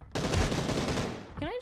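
Rapid video game gunfire in a dense, loud burst lasting over a second, then a short pause and a voice at the end.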